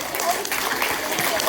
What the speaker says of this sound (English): Give those boys and girls a round of applause.